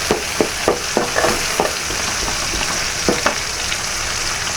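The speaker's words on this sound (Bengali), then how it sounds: "তাহলে চিংড়ি মাছটা ভাজা হয়ে যায়" Prawns fry in a pan with a loud, close sizzle, broken by quick metallic spatula taps and scrapes as the pieces are stirred.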